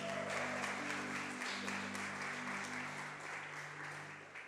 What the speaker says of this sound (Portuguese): já vai aplaudindo Jesus aí